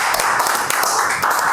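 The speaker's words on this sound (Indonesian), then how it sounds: "tepuk tangan Bang." Applause from a group at an Indonesian community event, a dense steady patter of many hands clapping close by, loud and continuous throughout with no voices over it.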